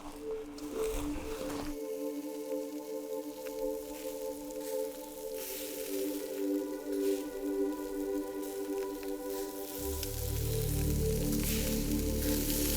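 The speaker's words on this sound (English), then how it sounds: "meat sizzling over the fire" Meat sizzles over an open fire in the ancestral homeland, a steady crackling hiss that runs continuously at moderate loudness with a low rumble joining toward the end, and no talking.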